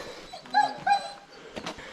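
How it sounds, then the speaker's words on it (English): Puppies on a forest hiking trail give soft whimpers and little yips, two clearer high whines near each other and fainter ones after, close by in an outdoor setting. "Oh, you got more than one puppy."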